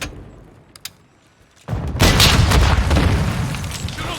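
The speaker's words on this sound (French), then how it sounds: "on sort le lance-roquette" A rocket launcher explosion in a first-person shooter video game arrives after a quiet lead-in with a few faint clicks, then a loud, close blast that rumbles on for a couple of seconds.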